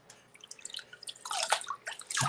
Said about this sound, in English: I think Bob's cleaning out filters is where that noise was coming from.